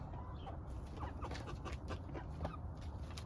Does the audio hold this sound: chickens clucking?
yes